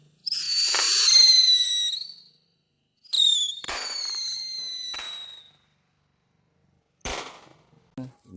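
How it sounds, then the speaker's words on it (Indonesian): Disco happy flower firecrackers burst in sharp crackling, whistling volleys: a long fizzing spray, then a second burst after a short pause, followed by a few brief pops. "Ini dia petasan disco happy flower."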